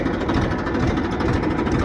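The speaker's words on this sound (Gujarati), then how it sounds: "પેલા ટ્રેક્ટર બંધ કરી દઉં" A tractor engine runs steadily at idle close by, a continuous low rumbling drone throughout with no talk over it.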